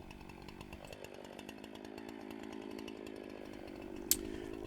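A chainsaw cuts a felling notch in a 23-inch cherry tree with a split crotch and rot, its engine buzzing steadily at moderate distance, with a sharp click near the end.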